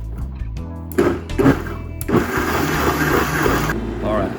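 A countertop blender whirs loudly as it purees broccoli cheddar cheese soup with liquid poured in from the pan, a steady grinding roar after a few knocks, with someone talking at the start.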